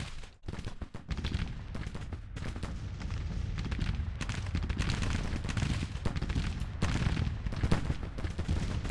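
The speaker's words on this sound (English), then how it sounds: "there's 3 batteries of artillery firing into their flank" Artillery batteries pound away in a Grand Tactician: The Civil War battle, a dense, continuous barrage of overlapping booms and gunfire rolling on without pause for the whole stretch.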